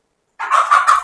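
A chicken or rooster lets out a short, close, loud clucking call, in three quick pulses, while the flock is fed wheat grain in a rural yard.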